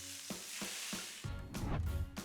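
Minced meat for taco burgers sizzles and crackles in a hot pan, with a few stirring scrapes and soft knocks; no voices.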